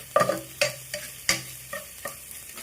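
Ham browning in a pot, heard as a series of sharp scraping stir strokes about every half second, each over a low steady sizzle, close by and with no talking.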